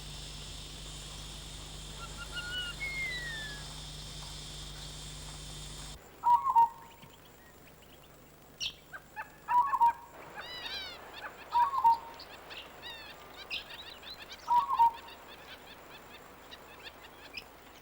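A pair of double-barred finches calls in scrubby Australian woodland with short, soft, nasal notes repeated at intervals. Brief higher chirps sound between them, faint and fairly close, over a quiet background.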